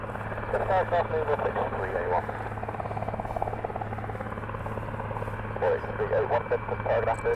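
A Royal Air Force helicopter hovers at an airfield at Benson, its steady rotor thrum and engine drone carrying throughout beneath a voice over a radio-like line.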